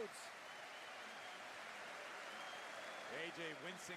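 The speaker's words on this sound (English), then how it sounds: "then they're clapping for themselves" A wrestling arena crowd claps in a dense, steady patter during a WWE Backlash match between Cody Rhodes and AJ Styles, heard at a distance, with a voice talking over it near the end.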